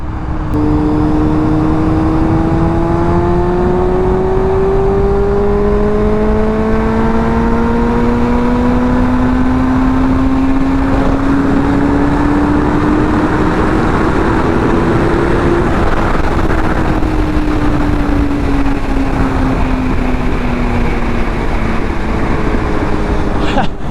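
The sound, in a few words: car engine accelerating at high speed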